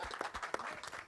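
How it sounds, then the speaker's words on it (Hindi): A brief burst of audience clapping at a film teaser launch event, with individual claps distinct in a short, uneven patter. "तो एक बार शोले के लिए जोरदार तालियां हो जाए"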